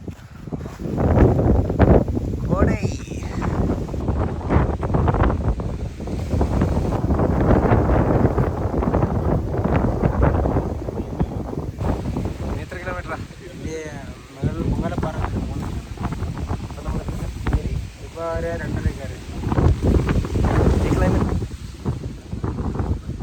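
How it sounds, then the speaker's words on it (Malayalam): Strong wind on the Agasthyakoodam mountain trek in the Western Ghats, gusting and buffeting loudly against the microphone throughout, with people talking intermittently under the roar. "കാറ്റ്"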